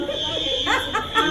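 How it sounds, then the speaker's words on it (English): A shrill, steady fire alarm tone rings continuously during a fire drill in a Goodwill outlet store, with a person's voice talking briefly over it. "The fire alarm went off."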